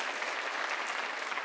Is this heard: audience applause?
yes